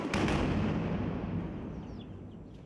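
Mortar fire in Poonch town: a heavy blast booms at the start and rolls away into a long, fading rumble, distant echoes trailing off.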